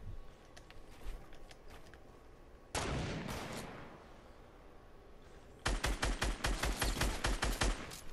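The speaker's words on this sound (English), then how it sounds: "Are we getting shot? We're getting shot." Gunfire in the video game Fortnite Battle Royale: a loud burst of rapid shots at about three seconds, then a dense run of repeated, evenly spaced rapid-fire shots from about six seconds to the end, with quieter action noise between.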